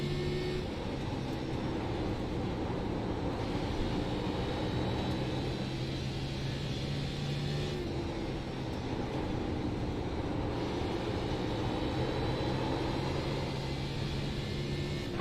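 A race car engine drones steadily through a lap of Bristol in a racing video game, a continuous loud roar with shifting pitch as the throttle opens out of the corner, no voices.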